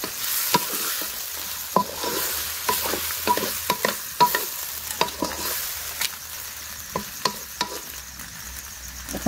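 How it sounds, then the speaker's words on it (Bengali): Desi chicken coated in turmeric fries in a pan and is stirred, a close, crackling sizzle punctuated by repeated sharp spatula scrapes and clacks in an irregular rhythm. "এখন কষাবো সুন্দর করে, তারপরে আলু দিয়ে দেবো।"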